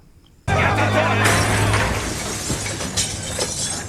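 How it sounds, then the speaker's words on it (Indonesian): Glass shattering in a film scene, a sudden loud crash that bursts out after brief quiet and spreads into a long, dense trail of falling debris and rattling fragments. "sesaat mereka mendengar suara pecahan kaca di belakang sana"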